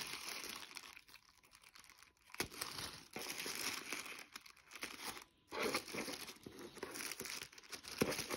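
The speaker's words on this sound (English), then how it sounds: "let's see if I can get this paper off carefully." Paper is carefully pulled and torn off a mailed parcel, giving close, quiet crinkling and crumpling with occasional sharp tearing rips, in uneven bursts and pauses.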